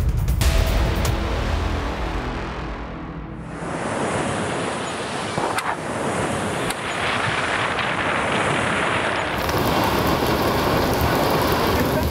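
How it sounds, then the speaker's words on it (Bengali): Heavy rain and storm winds from Cyclone Remal in Bengal make a dense, loud roar of rain and gusts that continues throughout, with a few abrupt shifts in tone. "রেমালের জেরে টানা 2 দিন ঝড় বৃষ্টি হয়েছে বাংলায়।"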